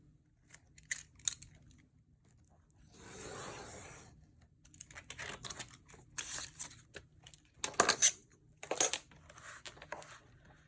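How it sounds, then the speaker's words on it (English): Paper being cut with scissors while trimming a folded piece off a page in an altered-book junk journal, giving a series of short, close snips and crisp crinkles spread across the span, with a brief rustle in the middle. "We actually need to go ahead and cut it off so we don't have extra bulk"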